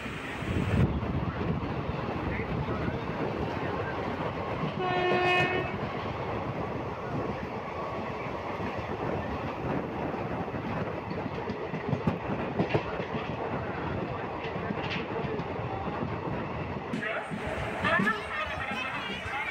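An express train pulls into Tambaram station, its wheels and carriages rumbling steadily with faint clattering and a brief whistle-like tone partway through, under a background of nearby chatter.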